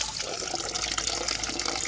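Water mixed with Clorox bleach poured into the fresh water tank fill pipe of an RV, a steady close splashing gush that runs unbroken for about two seconds.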